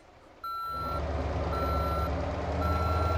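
A garbage truck reverses in the driving game Motor Town, sending out loud, regular electronic reversing beeps over a steady diesel engine rumble that kicks in abruptly and continues.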